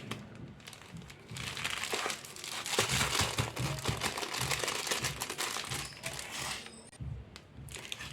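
Plastic bag of salt crinkled and handled up close in a home kitchen while mixing seasoned salt, a steady run of rustling, crackling bursts with no talking.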